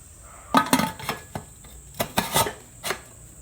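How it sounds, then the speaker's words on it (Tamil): Several close metallic clanks and scrapes as a pressure cooker lid is set on and fitted into place, with short pauses between. "இப்போ குக்கரை மூடிடலாம்"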